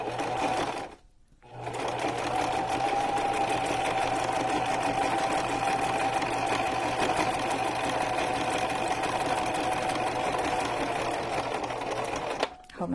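A sewing machine stitches a fabric journal cover in a steady, close, continuous whir, pausing briefly near the start and stopping at the end.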